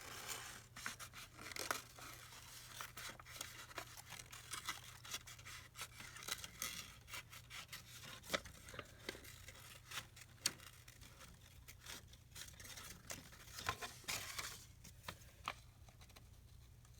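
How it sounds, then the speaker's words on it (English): Scissors fussy-cut paper for a junk journal, with steady quiet snipping and light rustling of the paper throughout, close and soft with no talking. "fussy cut this out."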